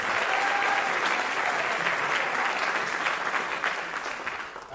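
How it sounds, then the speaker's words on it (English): Concert audience applause for a drummer at a college fall band concert, a thick sustained roar of many hands clapping, loud and even throughout and only slightly tapering at the close. "can we please get an extra round of applause for Jack Mintz on the drum set?"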